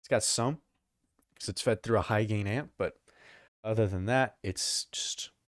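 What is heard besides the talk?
No everyday noises stand out.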